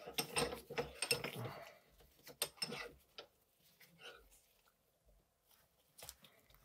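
A suspension fork from a 2018 FOX 34 Performance Elite FIT4 bike fork is tightened into a 10 mm clamp, giving quiet, irregular metallic clicks, ratcheting and scraping knocks close by, with no talking.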